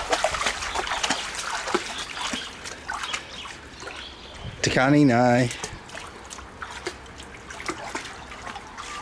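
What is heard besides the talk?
water from a hose running into a pool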